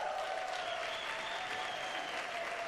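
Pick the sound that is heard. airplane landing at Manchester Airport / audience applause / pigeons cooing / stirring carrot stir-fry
audience applause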